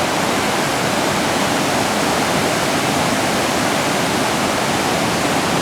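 Flooded Right Fork Holly River in Webster County, West Virginia, rushing over a submerged three-foot waterfall, a loud steady broadband roar of churning water with no breaks, heard up close.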